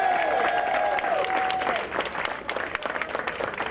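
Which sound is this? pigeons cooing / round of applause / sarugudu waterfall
round of applause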